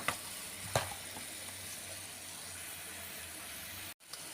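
Blended lentil soup simmers and sizzles softly in a pot on the stove, a faint, steady hiss with a brief clatter near the start and a short break toward the end.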